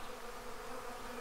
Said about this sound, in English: when there are several trees like this going around, and a lot of bees attending to them